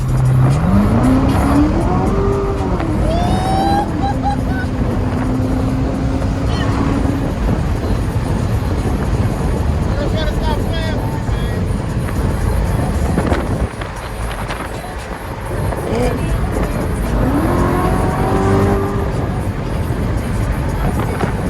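A Corvette Z06 engine revs hard and roars through rising gear changes as it is driven hard, with tire noise and wind rushing past, loud and close throughout.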